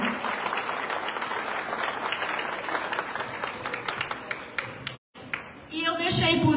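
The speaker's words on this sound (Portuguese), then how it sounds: "Uma salva de palmas, por favor." An audience at a Coffee Queen 2023 ceremony claps steadily for several seconds, moderately loud and dense, before a brief break and a louder swell near the end.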